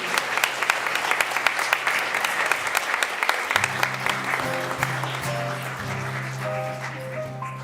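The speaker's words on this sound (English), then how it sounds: "Round of applause, please, for our cast of care." A congregation claps for the cast of a Chanukah play at a Shabbat service, giving sustained loud applause throughout while organ-like sustained musical tones rise underneath partway through.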